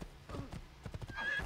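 Hooves clop on the ground in a quick uneven rhythm, then a horse lets out a high whinny at the end, fairly close, in the video game Assassin's Creed II.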